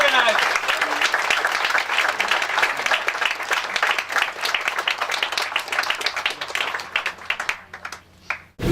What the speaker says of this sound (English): Let's give a round of applause to all these young organizers.